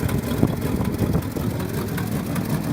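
An old yard truck's engine idles steadily after a cold start, a close, continuous mid-pitched rumble with faint irregular knocks and no talk over it.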